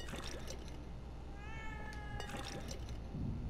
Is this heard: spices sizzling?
no